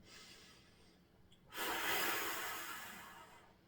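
A deep, slow breath taken while holding a yoga hip-flexor stretch: a soft airy inhale that swells into a louder, longer breathy exhale, close and alone.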